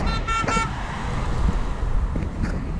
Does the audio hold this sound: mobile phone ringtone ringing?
no